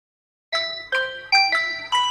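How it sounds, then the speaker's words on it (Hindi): Tecno Spark Go 2024 phone playing a short chime-like melody through its dual speakers, five bright tonal notes in quick succession after a moment of silence, close and clear. "इसकी आपको ड्यूल स्पीकर की साउंड सुनाता हूं मैं पहले।"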